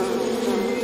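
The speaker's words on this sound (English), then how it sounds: "There's a lot of bees here." A dense swarm of bees hums in a steady, close drone, covering a person during a stunt challenge.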